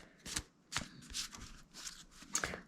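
A new deck of tarot reading cards being shuffled by hand, giving several quick papery riffles and flicks in irregular bursts, close and fairly quiet, with no talking.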